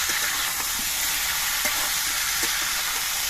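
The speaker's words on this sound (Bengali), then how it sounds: "এবার তেলের সঙ্গে নেড়ে চেড়ে লতিগুলো মিশিয়ে দিতে হবে আর কচুরলতিগুলো কিছুক্ষণ ভেজে নিতে হবে" Taro stolons fry in oil, giving a dense, even sizzle with faint stirring clicks underneath, close and unbroken throughout.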